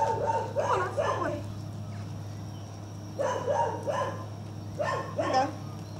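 A dog at agility rear-cross training whines and gives short yipping barks in three clustered bursts, fairly close, over a steady low hum with a voice briefly present.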